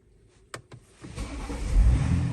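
BMW X5 M50d diesel: two sharp clicks, then the engine cranks and catches, settling into a rising, low, rumbling idle close by.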